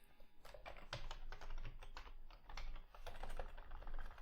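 Keys clatter on a computer keyboard in quick, uneven bursts of close taps with short pauses, typing text into 3ds Max software, with no voices.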